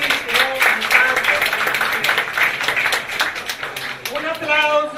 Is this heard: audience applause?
yes